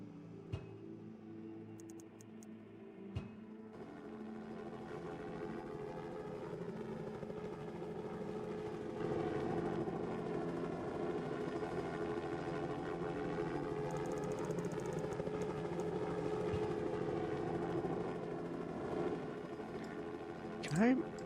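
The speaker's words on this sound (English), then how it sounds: "Can I do something about that helicopter?" A helicopter in the video game SimCity 4 gives off a steady, droning rotor and engine hum that runs throughout and gradually grows slightly louder, with a couple of faint clicks.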